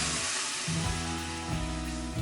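Water is poured into a pan of fried spices, setting off a loud, steady hiss and sizzle that carries through the whole stretch with brief surges, close by and with no talking.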